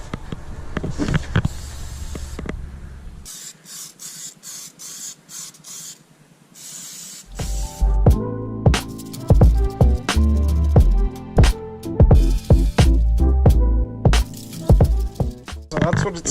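Old rust converter is sprayed onto the undercarriage of a truck in loud, repeated bursts of close hissing with clatter and knocks between them.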